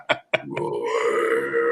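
A man imitates a roar that comes out as a short, throaty burp-like croak, preceded by two brief sharp vocal bursts, close to the microphone and alone.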